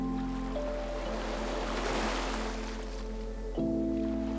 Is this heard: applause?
no